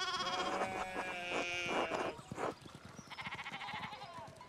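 Sheep bleating repeatedly in a rural farm scene from the Pentiment video game, several wavering cries close together and fairly loud, with no talk over them.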